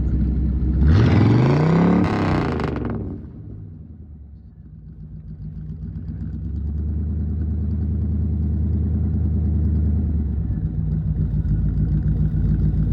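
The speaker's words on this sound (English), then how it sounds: "Got your dual exhaust." A 1961 Chevrolet Parkwood engine revs up loudly for a couple of seconds, drops away, then rumbles steadily at idle through its dual exhaust.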